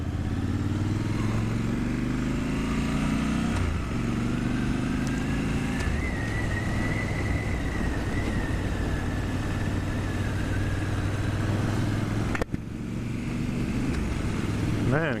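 A 2019 Triumph Scrambler motorcycle being ridden, its engine a steady loud drone with a rising whine as it pulls away, then a brief drop before it continues; wind and road noise fill the background with no talk.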